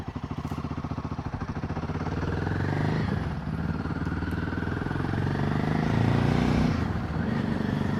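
A Royal Enfield Himalayan 450 motorcycle rides at cruising speed on a forest road, its single-cylinder engine throbbing steadily and loudly up close, with wind rush and a slight rise and dip in revs.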